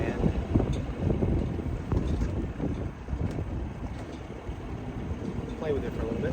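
A carbureted outboard motor on a sailboat runs steadily while it warms up after choking, a continuous low engine rumble mixed with gusty wind noise.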